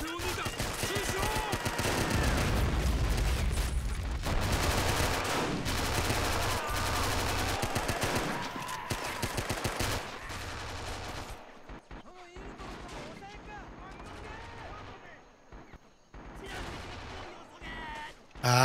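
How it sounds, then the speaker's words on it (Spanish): Machine gun fire in the WWII strategy game Men of War: Assault Squad 2 during a Mariana Islands battle, dense rapid bursts mixed with other gunfire and explosions that thin out toward the end before a final loud blast. "Ahí tenemos una ametralladora."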